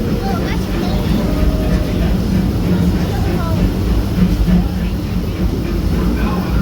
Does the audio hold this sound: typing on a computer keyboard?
no